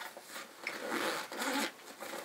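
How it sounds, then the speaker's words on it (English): Zipper on the top pocket of an Osprey Porter 46 travel backpack being pulled open in a couple of quick rasping strokes, close and moderately loud with no speech. "another zipper here"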